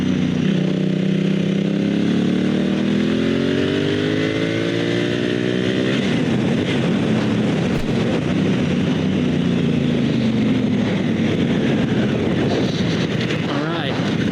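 Adventure motorcycle on Motoz GPS tires riding a backcountry road, engine revving up through gears then droning steadily with wind rush, close and loud, a rider's voice speaking briefly over it.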